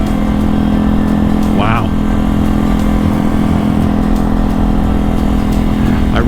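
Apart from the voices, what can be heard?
motorcycle engine running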